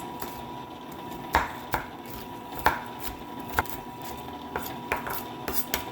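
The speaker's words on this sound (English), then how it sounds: "let's go ahead and chop up some of these candied pecans." A knife chops candied pecans on a cutting board, producing crisp, irregularly spaced knocks, about a dozen close taps over a quiet hum from an ice cream churn in the background.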